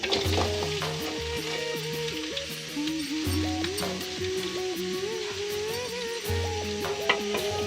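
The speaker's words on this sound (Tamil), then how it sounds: "வெங்காயம் வதங்க தேவையான அளவு உப்பு, இதையும் ஆட் பண்ணிவிட்டு இதை நல்லா கோல்டன் ப்ரௌன் ஆகிற அளவுக்கு ஃப்ரை பண்ணிக்கலாம்" Sliced onions with a little salt fry in a small amount of oil in a tawa for a Muslim-style Eid mutton kurma, giving a steady, dense sizzle that runs on without a break.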